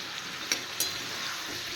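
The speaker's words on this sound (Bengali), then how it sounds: "যতক্ষণ পর্যন্ত চিকেন থেকে জলটা বেরিয়ে না শুকিয়ে যায়, ততক্ষণ পর্যন্ত চিকেনগুলো ভেজে নিতে হবে।" Chicken pieces fry in hot oil, a steady close hiss of sizzling with a couple of quick clicks of a utensil against the pan.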